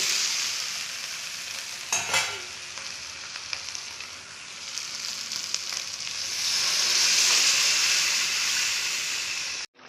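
Vegetables fry in hot oil in a pan with a loud, close, continuous sizzle. A sharp burst flares as water is added, stirring scrapes come and go, and the hiss swells again before cutting off abruptly.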